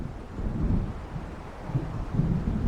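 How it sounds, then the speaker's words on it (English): A storm approaches in Alan Wake Remastered: a low, rolling thunder rumble swells and fades in soft waves beneath a bed of rain and wind, fairly quiet and without voices. "It seems there's a storm coming."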